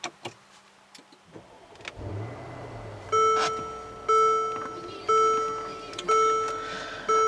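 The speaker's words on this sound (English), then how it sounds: "push the button here to fire up the engine" A 2016 Mercedes-Benz GL63 AMG engine cranks on push-button start and catches at about two seconds, settling into a low, muted idle, followed by four evenly spaced electronic chimes about a second apart.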